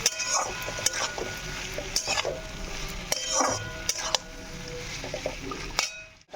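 Onions added to a spice masala and stir-fried in a pan, heard as a soft sizzle with repeated clinks and scrapes of a spatula against metal at irregular intervals, fairly close, ending in a brief hush.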